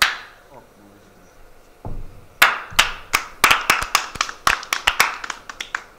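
A loud, sharp hand clap in front of the face opens a burst of crisp, close claps and snaps, about a dozen in quick irregular succession, standing alone without speech.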